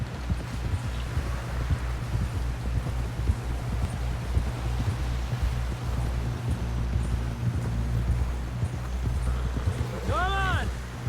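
Hooves of a horse ridden at speed in Red Dead Redemption 2, a steady, close, rhythmic clip-clop that runs throughout, with a short whinny near the end. A voice speaks over it.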